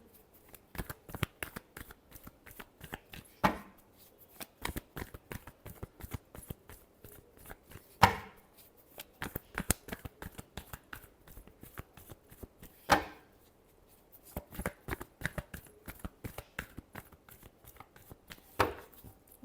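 Tarot cards being shuffled by hand in a quiet room, with rapid riffling bursts and sharper snaps recurring every few seconds, close and moderately soft, no talking.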